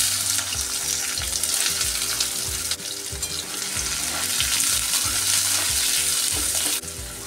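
Two large chopped onions fry in oil for palak paneer, giving a loud, steady, close sizzle under a low rhythmic rumble, with no voices.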